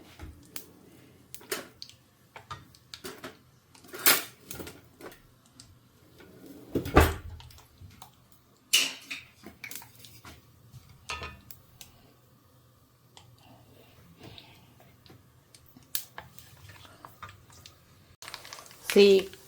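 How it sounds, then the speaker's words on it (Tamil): Mustard seeds spluttering in hot oil for a Tamil amla (gooseberry) pickle, heard as scattered sharp pops and crackles at irregular intervals against a quiet kitchen background. "கடுகு பொரியிற சத்தம் கேட்குறதா"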